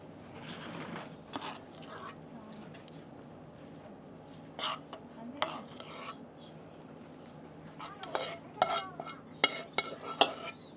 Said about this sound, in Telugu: ఇప్పుడు ఇందాక పక్కన పెట్టుకున్న రైస్లో ఇదంతా కలిపేద్దామా?